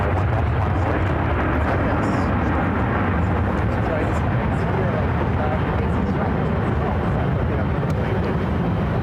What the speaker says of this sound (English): This is Air China 986 taking off to Beijing.